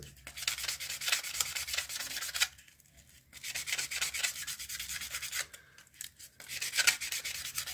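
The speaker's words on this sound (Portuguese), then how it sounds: "vamos lixar o tubo para que tenha uma aderência da cola instantânea junto à madeira" Sandpaper rubs rapidly back and forth over the metal tube of a wooden fountain pen, making close, gritty strokes in two long bursts, with a short pause in between and another near the end.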